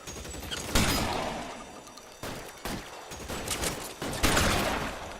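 Bursts of gunfire in the video game LA Noire during a shootout, with several loud volleys spread across a few seconds and no voices over them.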